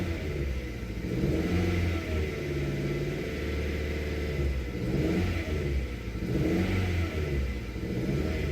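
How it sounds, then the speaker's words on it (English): A car engine revs up and settles back in steady surges while a mechanic checks whether the injectors are firing evenly, a loud, close mid-pitched roar with no talking over it. "Let's rev it a sec."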